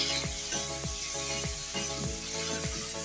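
Chopped tomato goes into a hot pan of potatoes and spices, giving a steady close sizzle with a series of sharp sweeping hisses and clatters as pieces hit the oil, with no talking.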